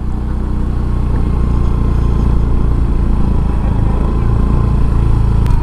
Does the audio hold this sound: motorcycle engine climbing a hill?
yes